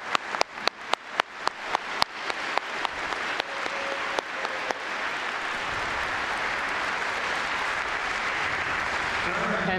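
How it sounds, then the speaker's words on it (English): Applause at a 2022 Remembrance Day ceremony in Guelph builds from a few sharp, spaced claps into dense, sustained clapping from a large crowd, growing fuller and steady. "let's give them a round of applause"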